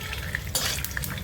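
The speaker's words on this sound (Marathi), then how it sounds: "तेल आपलं चांगले तापले आहे, त्याच्यामध्ये हे शेंगदाणे छान खरपूस भाजून घेऊया" Peanuts fry in hot oil in a pan with a soft, steady sizzle and crackle, joined by a brief scrape of stirring midway, faint and close with no talking.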